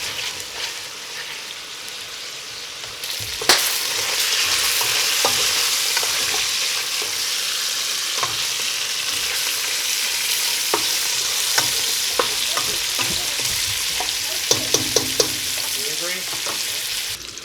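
Chorizo fries hard in a pan in a cabin kitchen, a loud continuous sizzle and crackle with scattered pops and occasional utensil taps, building slightly near the end.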